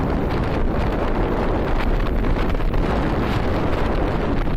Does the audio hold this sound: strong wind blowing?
yes